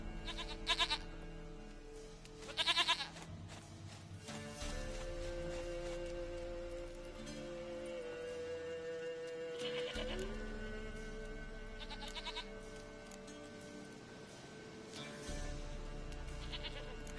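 Goats bleat repeatedly in The Witcher 3 video game, several short wavering calls close by over a soft steady ambient bed with occasional game music tones.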